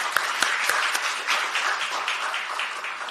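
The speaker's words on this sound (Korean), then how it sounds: "YTN 힘내라고 다시 한번 큰 박수 부탁드립니다." Audience applause at a live talk concert on resisting media takeover, a dense, steady wash of many hands clapping with no voices over it.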